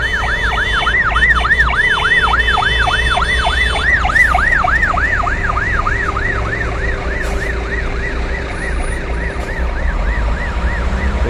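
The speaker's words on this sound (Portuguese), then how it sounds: "viatura do Corpo de Bombeiro acabando de chegar no local." A fire engine pulls up to a burning truck with its siren wailing in a rapid, rising-and-falling yelp that dominates close by, then cuts out and leaves idling engine rumble and road noise behind.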